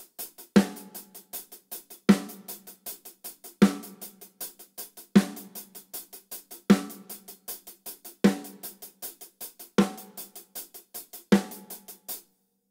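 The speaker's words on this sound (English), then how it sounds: "play exactly the same pattern, sticking is exactly the same, except I'm going to bring 2 and 4, beats 2 and 4, to the snare drum." A drum kit plays a steady 16th-note groove with accented snare hits on beats 2 and 4, crisp and close, with rapid even strokes between the louder backbeats and no voices.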